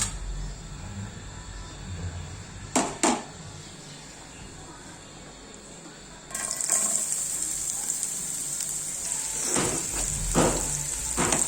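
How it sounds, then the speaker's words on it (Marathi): Chopped onion hits hot oil in a pan for usal curry, the sizzle jumping sharply louder midway and then frying steadily, with stirring clatters and spoon knocks nearby. "आता आपण त्यात कांदा घालू"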